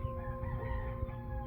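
A fighting cock at a cockfighting setting in Iloilo crows in a steady, sustained call with a low rumbling background, close and fairly loud throughout.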